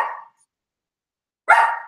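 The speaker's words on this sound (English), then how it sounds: "Who you barking at?" A dog barks twice, two short loud calls close to the microphone, separated by a second of silence.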